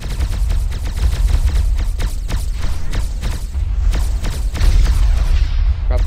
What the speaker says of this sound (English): All batteries fire at will.